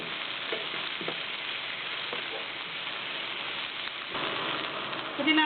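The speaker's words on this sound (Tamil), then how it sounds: "இப்போ திருப்பி நம்ம ஒரு ஸ்பூன் எண்ணெய் ஊற்றி அதில் இந்த புதினாவை போட்டுக்கலாம்" Mint leaves fry in a spoonful of oil in a pan with a steady close sizzle, broken by a few soft stirring knocks, and the sizzle swells louder near the end.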